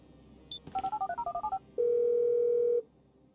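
A rapid run of about a dozen electronic telephone keypad tones in Grand Theft Auto V, followed by a steady one-second dial tone, with faint game ambience behind.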